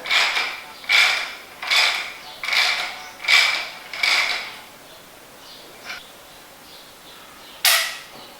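A part on a KYB fork from a YZ250 motorcycle is tightened during a rebuild, making six evenly spaced ratcheting clicks followed by a few softer ticks and one last sharp click, close and clear.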